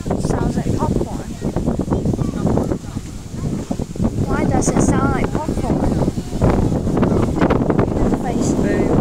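Heavy wind buffeting a microphone outdoors at a fireworks display, a constant rough roar across the whole span, with people talking over it throughout.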